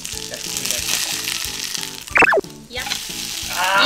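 Shanghai-style fried noodles sizzle steadily in a pan over medium-high heat, with a sharp scraping stir midway and a fresh hiss of frying near the end, while a rhythmic, looping music bed plays underneath.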